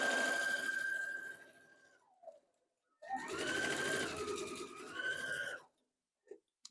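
A sewing machine stitches fabric pieces together for a quilt block in two loud, fast whirring runs separated by a pause, then stops with brief clicks and silence.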